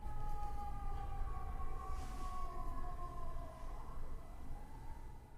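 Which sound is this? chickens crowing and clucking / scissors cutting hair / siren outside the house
siren outside the house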